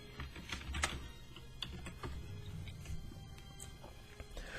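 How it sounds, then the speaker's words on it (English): Keys pressed on a computer keyboard while logging into Elder Scrolls Online: faint, sparse plastic clicks and taps scattered over a quiet room background, with no talking. "You can press any key on the keyboard to bypass that."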